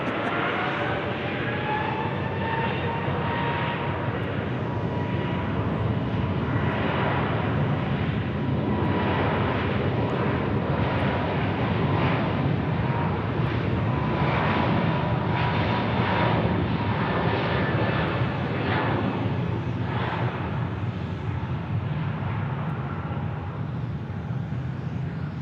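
A FedEx airliner flies past near Sky Harbor Airport, a long, steady, loud engine roar that holds for the whole stretch with whining tones drifting in pitch.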